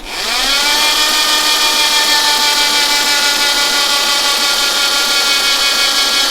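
An engine cranks on a weak battery during a compression test, a loud, close, sustained mechanical whine that holds steady without firing.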